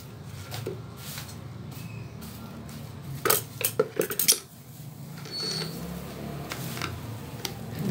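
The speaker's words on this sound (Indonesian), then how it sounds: "Ini media tanamnya kita aduk." Potting mix with Malang sand being stirred in a container for planting a monstera cutting, a soft scraping bed broken by a short burst of hard clattering knocks near the middle, close up.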